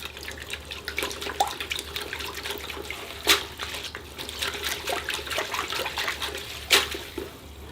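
A bonsai root ball from a cotoneaster or gardenia being washed in a water tank, water sloshing and trickling steadily close by, with a couple of louder splashes and no talking.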